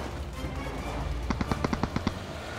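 Rapid burst of gunshots cracks out inside a small building in PUBG, about eight sharp reports in quick succession at mid distance over low background ambience.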